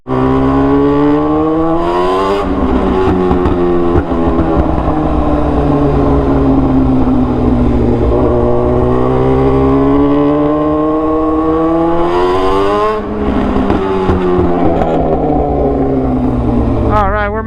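A Suzuki GSX-R1000R sport motorcycle rides through Hollywood streets, its engine droning loud and steady throughout, with pitch sweeps as it shifts and accelerates around 2 and 12 seconds and wind rush over the close engine note.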